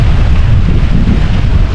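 Steady roaring wind buffets the microphone with heavy low rumble, continuous and loud throughout, with no voices.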